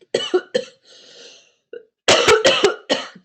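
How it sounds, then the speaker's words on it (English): A person coughs repeatedly, close and loud, in clusters of short hacking bursts with a breathy pause between the groups. "I have a sore throat today, so you have to apologize if I'm coughing"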